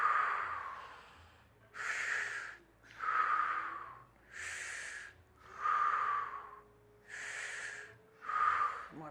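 Deep, slow breaths during a fascial stretching exercise, about seven strong inhales and exhales in an even rhythm, close and clear with no talking.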